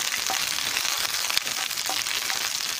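Shallots and fenugreek seeds fry in hot oil with a steady, close sizzle and faint crackles, with no voices present.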